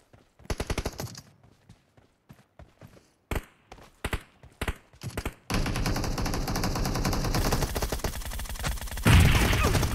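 Bursts of rapid automatic gunfire in a video game team deathmatch, starting as scattered separate volleys and then turning into continuous, loud, dense firing for the last several seconds.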